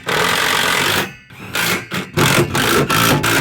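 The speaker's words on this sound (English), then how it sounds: "now what I'm going to do is go around and tighten up all of these bolts" A power tool drives bolts on a Built Right Industries bedside rack fitted to a 2017-2019 Ford F250 truck bed, a loud buzzing whir in several short bursts with brief pauses between.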